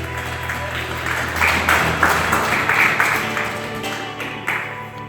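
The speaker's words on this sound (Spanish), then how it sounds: "Dale fuertes palmas a Jesucristo." A church congregation claps loudly for Jesus Christ in a dense, swelling burst of applause that builds and then tapers, with a voice speaking briefly over it.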